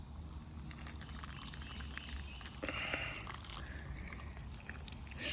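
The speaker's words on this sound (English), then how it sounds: "Now the next thing to do is to give it water." Water pouring from a container onto the soil around a fig tree freshly fertilized with chicken manure, a quiet, steady trickle and splash over faint outdoor background.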